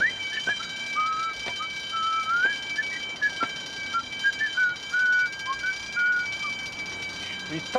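An alarm sounds with repeated warbling electronic tones that rise and dip in short bursts over a steady background, without talking.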